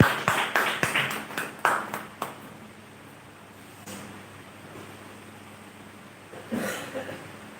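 Clapping from an audience welcoming a guest at a live Awadhi cultural event in Bengaluru, a burst of sharp claps over the first two seconds that fades out, then a brief patter of claps again near the end.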